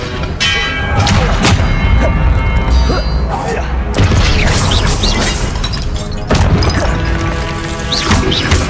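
Spell-casting combat in the Hogwarts Legacy video game, with the Expelliarmus disarming spell among repeated loud booming, crashing impacts over a dense, continuous game soundscape.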